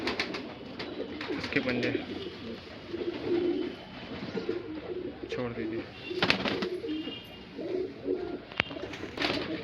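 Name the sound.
Shahjahanpuri breed pigeons cooing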